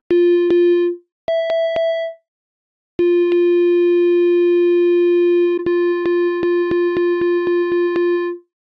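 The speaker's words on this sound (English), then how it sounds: "You can really hear that kind of guitar amp sound," A steady sine wave tone through a guitar amp cabinet simulation, with a buzzy, harmonic-rich edge, switching pitch and briefly cutting out, overlaid by periodic clicks; no voices.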